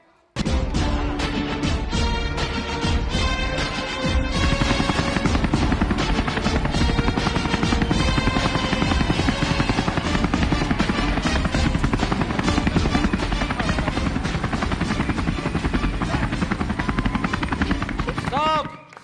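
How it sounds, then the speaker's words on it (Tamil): A helicopter drones loudly and steadily for the whole stretch, its rotor thump and engine whine close and continuous, heard during a Tamil TV reality show scene. "ஹெலிகாப்டர் சவுண்ட்லாம் வருது"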